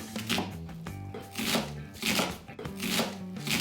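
Knife chopping half an onion on a cutting board, a steady run of quick, close, crisp strokes in short rhythmic bursts.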